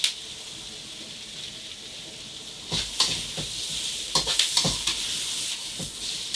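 Onions, garlic, ginger, cauliflower and mushrooms sizzling in a hot wok for a ginger beef stir fry, a steady frying hiss broken by several louder bursts as the vegetables are stirred and tossed.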